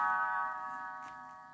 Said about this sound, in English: You will know it is time to turn the page when Tinker Bell rings her little bells like this.